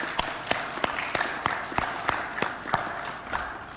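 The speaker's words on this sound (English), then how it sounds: "You can give them a round of applause." A round of applause in a senate chamber as signed copies of an agreement are exchanged, with sharp, evenly spaced claps ringing out over a steady murmur of hands and room noise.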